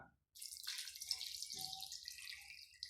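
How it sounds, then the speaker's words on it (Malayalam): A soft, close stream of water pours and splashes into a pot of prawn and tapioca curry, continuous and gentle for a few seconds after a brief silence. "ഇനി ഇതിലേക്ക് ആവശ്യത്തിനുള്ള വെള്ളം ഒഴിച്ച് കൊടുക്കാം"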